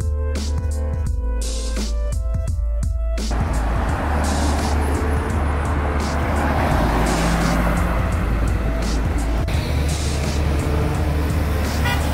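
A Lamborghini Aventador SVJ drives past on a London street amid loud, busy traffic noise, with a car horn tooting briefly near the start.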